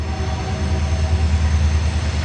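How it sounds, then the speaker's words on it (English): The Rocky Mountaineer passenger train passes by on a mountain railway, a loud, continuous rumble and roar of wheels and cars that holds steady throughout. "the Rocky Mountaineer came through."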